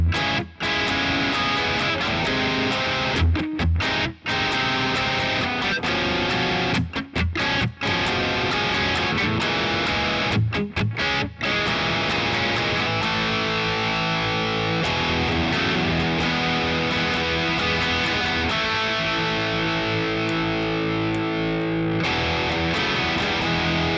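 Loud distorted electric guitar strums through a verse of a song, dense chords with brief rhythmic stops, then ringing sustained toward the end.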